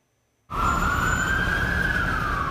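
An emergency vehicle siren suddenly starts after a brief silence outside the Fairmont The Palm Hotel in Dubai at night, a loud steady wail that slowly rises in pitch over rumbling traffic noise.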